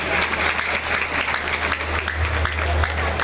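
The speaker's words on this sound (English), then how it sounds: "One more applause, please, for 8-time captain and his band." An audience at a university's 40th anniversary gala claps steadily in a sustained round of applause, many hands at once, thick and continuous, with faint crowd murmur underneath.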